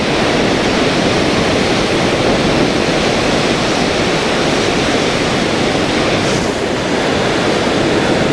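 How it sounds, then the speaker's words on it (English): Loud, continuous roar of ocean surf breaking on a beach at Cape Disappointment, a steady wash of crashing water with no voices. "still getting some decent waves."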